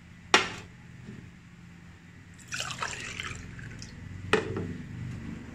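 Water poured into a pot for herbal green tea, three glassfuls: a sharp knock at the start, then a splashing pour in the middle and another short burst near the end, fairly close and quiet.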